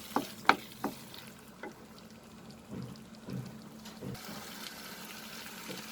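Green peas cook in masala in a pan with a soft, steady sizzle, opened by a few light clinks of a spoon and then gentle stirring scrapes, quiet and close.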